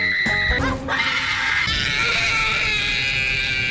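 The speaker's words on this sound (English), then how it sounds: "when he tries to do the iconic Fred scream, you can feel his vocal cords being shattered" A harsh, strained scream from the character Fred in a Fred movie sequel, a loud continuous shrill voice with a brief break near the start, then a sustained high-pitched cry with no other talk.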